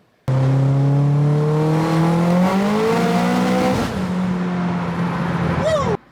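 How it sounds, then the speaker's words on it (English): A Mitsubishi Evo X tuned to 33 psi boost revs hard and climbs steadily through third gear, loud and close, then cuts off abruptly near the end. "It's a third gear pull."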